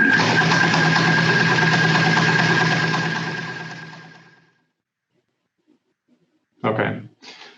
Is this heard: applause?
no